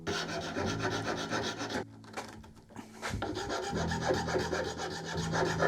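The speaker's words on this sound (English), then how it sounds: "I'm just going to chamfer these corners. We can do a little bit of work just rounding these corners a little bit." Steady rasping and rubbing of a file or rasp across wooden ferro rod handles as their corners are chamfered and rounded, with a brief pause midway before the close, continuous scraping strokes resume.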